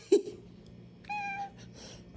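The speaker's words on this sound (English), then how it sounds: "Those aren't like his usually aggressive meows." A house cat named Figaro gives a couple of short, soft meows, one near the start and another about a second later, close by and unusually gentle, with faint room noise between.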